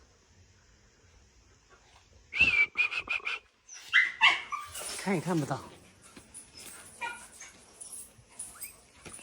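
Inside a rural shelter, a mother dog that has just whelped makes high yips and thin whimpers from her nest with newborn puppies. The cries come in short bursts mixed with people talking nearby, then fade into quieter rustling.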